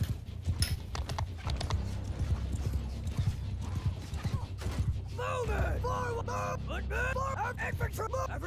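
Horse hooves gallop in a Mount & Blade II: Bannerlord battle, a steady clip-clop close by, mixed with loud combat noise and shouting voices that grow busier toward the end.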